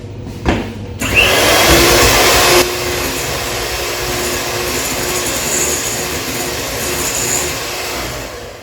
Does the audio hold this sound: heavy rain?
no